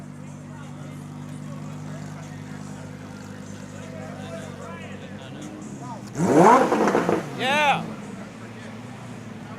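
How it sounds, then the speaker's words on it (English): A Lamborghini Performante Spyder rolls in at a car meet, its engine rising in a loud, nearby revving sweep over a steady low idle and background chatter. A person speaks briefly. "All right, so Performante just rolled in."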